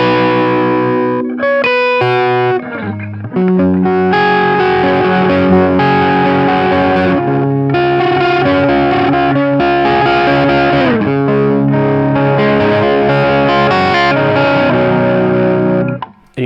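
Electric guitar played with heavy distortion through an effects unit, running through a riff and verse; loud, sustained and continuous, with no talking.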